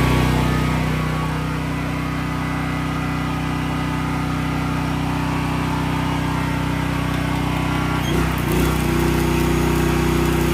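A PK2300i generator engine running steadily after its choke is opened, a loud continuous mechanical drone with a brief disturbance near the end and no speech.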